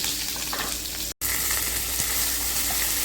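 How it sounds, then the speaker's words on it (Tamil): Chopped onions sautéing in hot oil with mustard seeds and curry leaves for Tamil kara kozhukattai, a steady close sizzle and crackle running throughout, broken only by a brief drop to silence. "வெங்காயத்தை நல்லா வதக்கிக்கலாம்"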